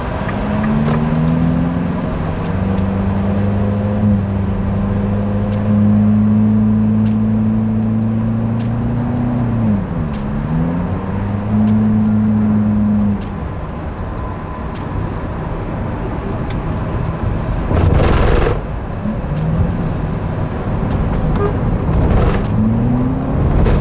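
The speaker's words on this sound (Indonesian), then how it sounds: "ini gue mau langsung tes akselerasi mobilnya ya" A Nissan Serena with an overhauled automatic transmission accelerates hard on the road, its engine drone climbing steadily in pitch, dipping briefly with shift changes, then settling into a loud sustained hum with passing road noise.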